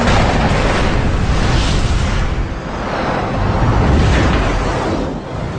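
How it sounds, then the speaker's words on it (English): Dense, sustained roar of .50 caliber rounds striking a MiG jet fighter in a Korean War dogfight, loud and continuous with rolling explosive rumble throughout, no voices. "50 caliber rounds impact the MiG."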